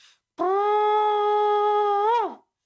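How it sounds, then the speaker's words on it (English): A single sustained, brassy shofar ram's horn blast held for about two seconds, ending with a brief upward bend and drop before cutting off. "When you hear the sound of the shofar,"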